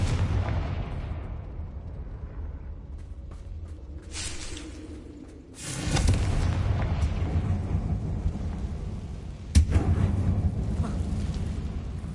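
Two explosive Confringo spell blasts in Hogwarts Legacy on hard difficulty, a heavy booming burst near the middle followed by a sharper bang near the end, over a low rumbling game ambience.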